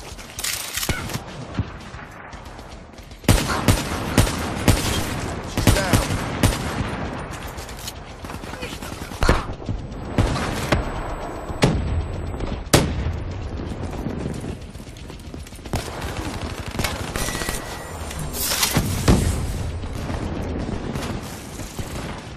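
Video-game combat with repeated gunshots and a grenade blast, sharp loud cracks scattered irregularly over a steady mechanical clatter, while a voice talks intermittently.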